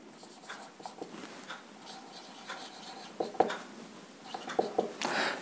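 A pen writing on paper in short, uneven scratchy strokes with small taps and pauses, close and fairly quiet, with faint background noise.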